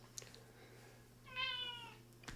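A cat meows once, a drawn-out, fairly faint meow over a steady low hum with faint background noise.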